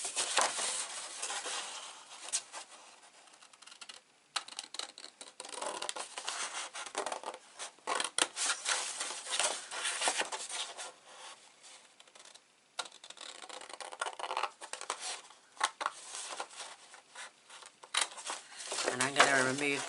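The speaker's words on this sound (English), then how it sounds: "So I'm going to use my larger scissors" Large scissors snip through card in a crafting session, producing a steady run of crisp, close cutting and scraping sounds with brief pauses between strokes.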